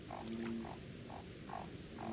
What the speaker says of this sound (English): his croaks attract a female to the pond